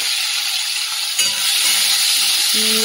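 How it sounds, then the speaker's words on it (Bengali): Prawns frying in hot oil in a kadai for a bottle-gourd prawn dish, a steady close broadband sizzle and crackle throughout, with a brief stir or clatter partway and a low hum near the end; no talking. "তেল তো গরম হয়ে গেছে, চিংড়ি মাছটা ভেজে নিচ্ছি।"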